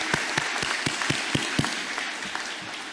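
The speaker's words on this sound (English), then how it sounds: "Give yourself a round of applause." Graduating eighth-grade class of 2026 at a Winslow Township Middle School promotional ceremony applauding: a large crowd's steady, fairly loud clapping with a few sharper individual claps near the front, fading slightly toward the end.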